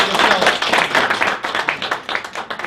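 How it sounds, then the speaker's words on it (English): An audience at a tech meetup in a Royal Oak coffee shop breaks into a steady round of applause, dense close clapping that carries on for a couple of seconds. "Let's give him a round of applause."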